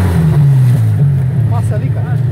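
An off-road 4x4 engine revs close and loud in short throttle bursts on a trail, with someone shouting over the rumble.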